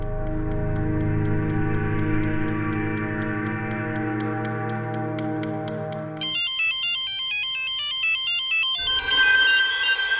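A phone ringtone plays loud and close, first a dense tonal melody with rapid ticking pulses, then switching to a bright, stepping electronic chime pattern that repeats without pause.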